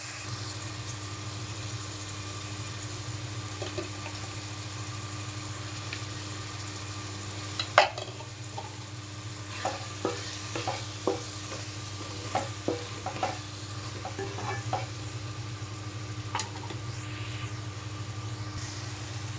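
Cumin powder and garam masala being stirred into a frying dish, with a steady low sizzle throughout and a series of sharp spoon scrapes and clinks in the latter half, close and moderately loud.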